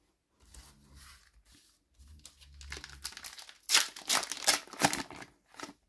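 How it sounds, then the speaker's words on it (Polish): Topps Match Attax 24/25 card packets are torn open close up, with loud crinkling foil and tearing that build into sharp bursts of rustling, no talk over it. "No a teraz otwieramy już saszetki."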